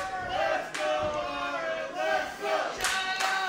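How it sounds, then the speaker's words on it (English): A wrestling arena crowd cheers for Myron Reed, a broad roar of voices with swells and scattered claps and shouts, sustained and loud throughout. "And you hear the fans getting behind him"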